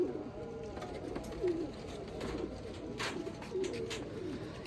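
Pigeon cooing from a rare golden breed pair, low soft coos recurring a few times over steady background noise, close by.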